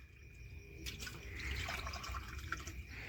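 Water pours steadily into a container during a party game of filling it to the brim, a continuous splashing trickle with faint drips, close by and without talk.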